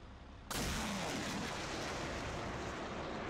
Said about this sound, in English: we'll jump into the M270 and fire a single round